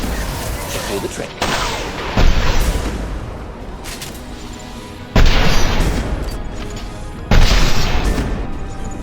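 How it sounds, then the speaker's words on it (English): Unstable crates exploding during combat in the video game Mass Effect 2, with several sharp booming blasts spaced a few seconds apart over continuous gunfire-like noise and background speech. "A misplaced shock can cause a significant explosion."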